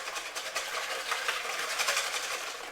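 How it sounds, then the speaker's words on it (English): Dry yeast whisked into gluten-free bread mix in a bowl, a continuous close scratchy swishing with quick repeated strokes, fairly soft and steady throughout. "So as we're not going to be mixing this for a long time, I'm going to whisk it all in now."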